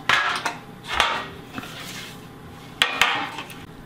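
Metal baking trays clatter and scrape in a kitchen while being greased with butter for Christmas cherry and chocolate cookies, with several sharp knocks spread across the stretch and softer rubbing in between.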